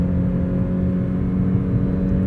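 The 1.5L engine of a 2026 Mazda 3 High Plus running hard toward 6000 rpm on a drive in Genting, a sustained droning hum with strong harmonics heard from inside the car, no talking.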